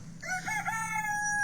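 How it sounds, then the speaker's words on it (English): A rooster crows once, a loud, drawn-out cock-a-doodle-doo close by with a long sustained final note. "Oh, my lovely chickens."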